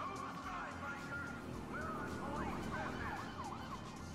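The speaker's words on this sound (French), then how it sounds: "Je leur ai fait peur, je leur ai mis la sirène." A vehicle siren wails in GTA V, its rising and falling tone sweeping repeatedly over steady engine and traffic noise for a few seconds.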